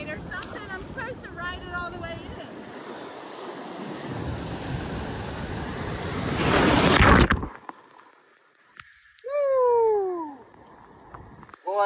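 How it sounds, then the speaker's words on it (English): Loud rushing surf at Hunting Island beach roars for several seconds, then cuts off abruptly, followed by a few whistling calls and another short burst of noise. "These waves are badass right now"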